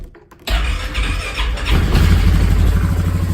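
A 2016 Polaris Sportsman 570 ATV starts on a fresh battery: silence, then the starter whirrs and the engine catches into a loud, close, rumbling idle that holds steady to the end, with no talk.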